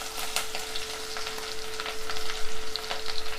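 Green chillies sizzle and crackle loudly in hot oil in a pan, a dense continuous frying hiss with scattered pops close up and no talking.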